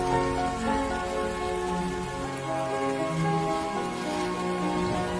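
Rain falls in a tropical rainforest, a steady, dense hiss of drops hitting leaves and ground that holds evenly throughout with no voices.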